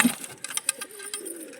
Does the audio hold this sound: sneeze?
no